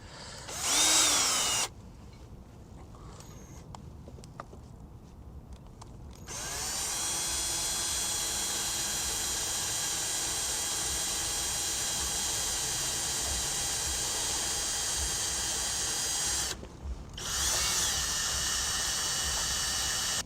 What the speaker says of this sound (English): And let's just drill through.